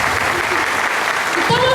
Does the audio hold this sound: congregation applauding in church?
yes